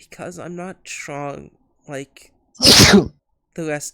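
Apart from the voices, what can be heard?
sneeze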